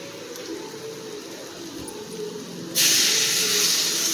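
Steady sizzling hiss of drumsticks sautéing in masala in a pan, jumping suddenly louder and brighter partway through as the sizzle intensifies.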